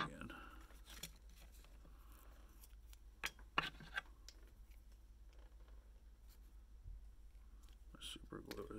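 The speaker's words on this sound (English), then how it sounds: "take two sides, put them together, and then cut out that exact same shape" Scissors snip out a shape from cork or craft material for a wine cork topwater popper fly, making a few quiet, scattered cuts and clicks against a faint room background.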